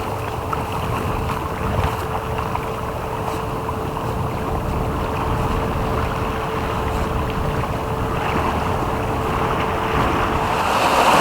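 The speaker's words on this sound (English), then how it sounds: "Look at waterfall." Rushing water from a waterfall in a chasm near Swinning Voe, Shetland: a steady, loud broadband roar with wind noise mixed in, growing slightly stronger toward the end, no voices.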